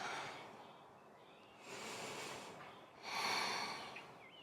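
Two slow, full breaths during a yoga tiger pose, each a broad airy inhale-exhale swelling out of a quiet room, the second louder and closer than the first.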